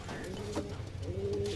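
Pigeons coo close by, a couple of low throaty rolling calls in quick succession over a dense background murmur of other birds.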